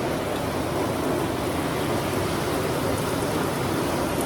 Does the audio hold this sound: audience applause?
no